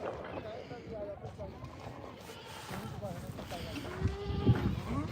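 Goats bleating among a crowd at a Wednesday livestock goat market in Dhanaula, Punjab, several overlapping calls near and far, with a loud close bleat near the end, under steady chatter and voices talking.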